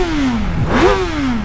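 Mini motorcycle engine revving loud and close through its exhaust pipe, the pitch dropping, then sweeping up sharply and easing back into a steady throaty drone.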